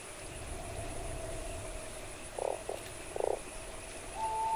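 A toad croaks in the video game Fran Bow, two short rasping croaks close together over a steady ambient game background, with no talk.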